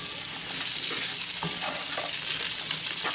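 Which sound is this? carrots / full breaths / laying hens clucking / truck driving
carrots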